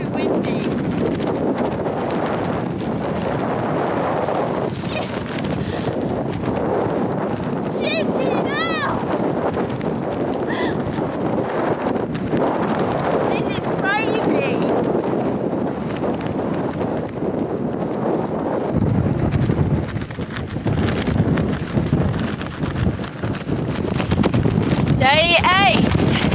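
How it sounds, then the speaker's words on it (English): Strong wind buffets a microphone on a remote island while hiking, a constant loud roar with gusts swelling toward the end; faint voice-like tones drift through the rush. "I was gonna go here, but it's so windy."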